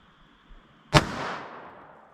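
A single sharp, loud gunshot from a .380 ACP pistol firing Winchester White Box ammunition at a target about five yards away, with a short echoing tail afterward.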